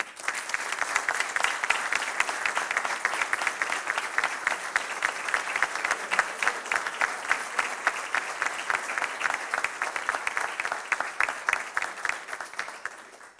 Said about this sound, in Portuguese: Para este conjunto peço uma salva de palmas.